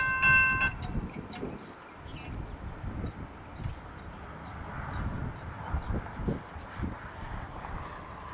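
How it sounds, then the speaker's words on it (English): An eastbound Union Pacific mixed freight train rumbles past close by near a swing bridge west of Morrison, Illinois, a steady heavy roar with rhythmic clatter from the rolling cars running through the whole stretch. "All right, eastbound UP, just west of Morrison, Illinois, in Red's Iowa Train Videos."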